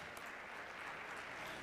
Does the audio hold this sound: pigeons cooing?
no